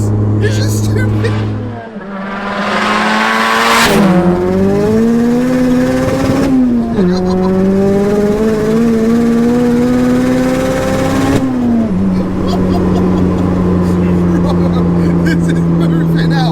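A dry-sumped Mazda MX-5 with a 600bhp engine revs hard and loud from the cabin, pitch climbing and holding high in long sustained pulls with gear changes, while people talk over the engine.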